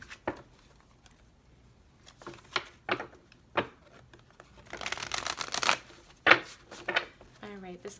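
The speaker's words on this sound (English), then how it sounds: "This will be our final shuffle" Tarot cards are shuffled close up with soft taps, then a quick riffling burst, and a brief voice near the end.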